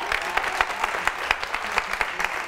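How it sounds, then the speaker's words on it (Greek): Audience applause at a live stage show with hypnosis, a steady clatter of many hands clapping together at close range, held at an even level with sharp individual claps standing out throughout. "δώστε σε ένα δυνατό χειροκρότημα."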